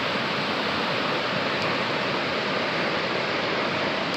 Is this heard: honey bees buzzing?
no